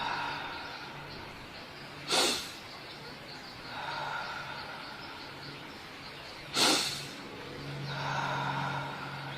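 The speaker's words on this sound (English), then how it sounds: "we can do 10 fast breathings, like 10 fast inhalations through the nose" Two sharp, loud nasal inhalations several seconds apart, each followed by a softer, longer natural exhale, as in a rapid breathing exercise, against a steady low background hiss.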